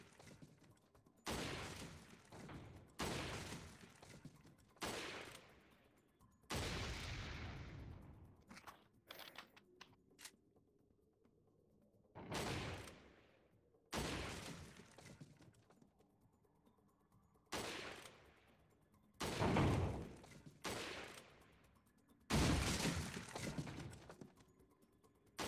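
A gun in Resident Evil 4 VR fires in repeated sharp bursts separated by short gaps, loud and close, against a quiet background.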